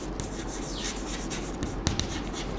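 Marker or chalk strokes rasping across a classroom board, soft continuous scratching with a brief tap partway through and steady room noise underneath, no speech.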